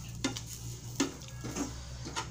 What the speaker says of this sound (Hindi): इन सभी को डाल के मिक्स कर दीजिए अच्छी तरह से